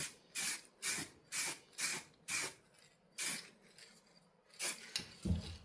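Plastic primer sprayed from an aerosol can onto an RC car body shell, close, in a series of about nine short hissing bursts with brief pauses between them.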